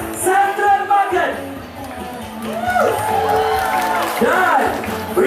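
A festival crowd at the Pesta Kaamatan and Gawai celebration at Central Market, Kuala Lumpur, cheers, whoops and claps continuously while a loud voice talks over the noise.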